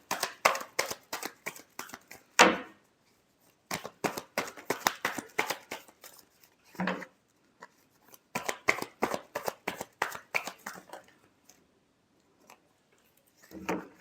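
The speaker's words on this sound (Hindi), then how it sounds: "Last shuffle." Tarot cards are shuffled by hand in repeated quick bursts of riffling flutter, close and crisp, separated by short pauses and a few sharp taps.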